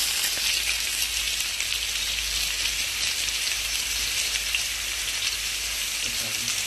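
Sliced onions sizzling in very hot oil in a pan for Mumbai-style street food, a loud, dense, continuous frying hiss that holds steady close to the mic with no voices.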